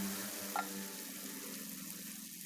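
Green chili sambal frying dry in a pan without water as it is stirred, a continuous sizzle with scraping stir sounds and a brief clink, moderately close.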